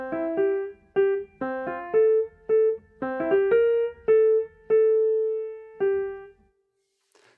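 Four closing measures of the first A section of a Mozart piece, played as a clear, moderately loud melody of detached notes over lower accompanying notes. A final sustained note fades into silence.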